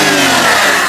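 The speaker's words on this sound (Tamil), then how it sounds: "இன்ஜின் நம்ம கிரு கிரு கிரு கிருந்து பேசுது அப்படியே." A car engine revs loudly and close by in a short, roaring burst.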